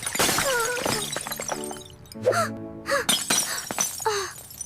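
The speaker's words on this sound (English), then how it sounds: "The glass vase is broken." A glass vase shatters indoors with a sharp, bright crash at the start, followed by voices speaking and gasping.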